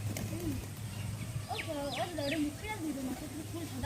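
Pigeons coo in a few soft, rising and falling calls over a steady low hum, with people talking nearby.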